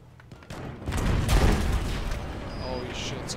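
Bombing in Battlefield V: a heavy explosive boom swells up and rumbles on amid scattered battlefield gunfire and noise, with players talking over it.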